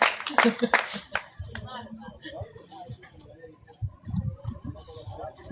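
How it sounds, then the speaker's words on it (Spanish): Scattered clapping from a church congregation during a Wednesday prayer service, uneven and mixed with voices and bursts of sound, rising and falling rather than forming a steady ovation. "Denle un aplauso al Señor."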